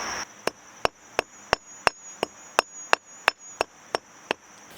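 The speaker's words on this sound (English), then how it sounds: "I just had the urge to hammer this so that it was flat, like instead of coily." Sharp, evenly spaced hammer blows strike air dry clay outdoors, about a dozen loud close knocks at a steady rhythm roughly three per second, with quiet gaps between them.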